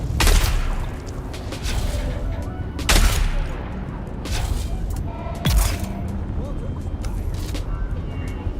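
Gunfire in the video game Dune Awakening, with repeated sharp shots and booms at irregular intervals over a continuous bed of game noise, while people talk throughout.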